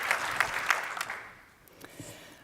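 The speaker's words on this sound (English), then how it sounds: "maybe a big applause if you will join me for him" Audience at an energy conference applauding Dr. Larsen, a short, fairly faint round of clapping that fades out quickly into scattered claps.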